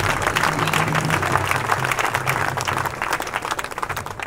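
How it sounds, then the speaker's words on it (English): A crowd at an outdoor Occupy rally in Santa Rosa claps and cheers in a dense, steady round of applause, loud and close, with a few voices mixed in. "Please give him a round of applause."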